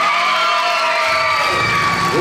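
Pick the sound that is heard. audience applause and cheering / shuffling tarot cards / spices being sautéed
audience applause and cheering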